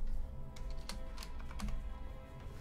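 Sharp, scattered keystrokes tap on a computer keyboard in an irregular rhythm, close and moderately loud over a low background rumble, with no one talking.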